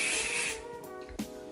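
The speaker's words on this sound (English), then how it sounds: "I'm just gonna spray some hairspray on my hair" Hairspray hisses from an aerosol can onto hair in one loud, steady burst of about half a second, then fades into soft rustling and a faint tap.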